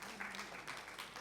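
An audience at a women's forum on gender equity and noncommunicable diseases applauding the speakers, a soft, steady patter of many hands clapping at a distance.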